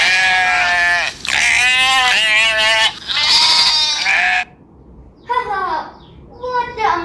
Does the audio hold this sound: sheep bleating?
yes